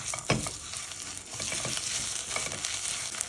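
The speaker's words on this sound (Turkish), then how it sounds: "Ve salçamda da biraz kavuracağım." Tomato paste frying with vermicelli in a pot for Turkish soup, a steady close sizzle with scraping spoon strokes and bumps of stirring throughout.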